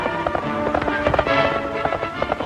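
Horses running on a Western movie set from 1938, hooves clip-clopping in a quick, uneven patter that stays close and fairly loud throughout, with no talk.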